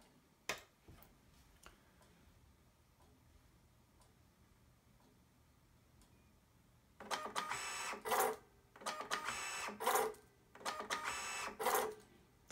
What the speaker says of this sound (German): Hier mache ich noch mal kurz einen Vergleich, wie schnell der Drucker ist mit der normalen Qualität